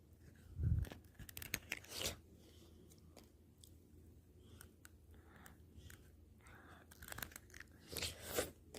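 Dubai-style chocolate bitten and chewed close up, with a sharp crunchy bite near the start followed by quiet intermittent chewing and crackling, a few louder crunches near the end.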